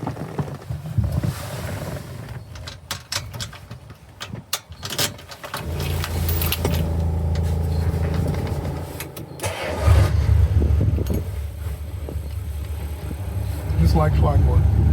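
A Mercury flathead V8 cranks and catches, then settles into a smooth, steady idle with a couple of blips of throttle, heard close up while people talk over it at times.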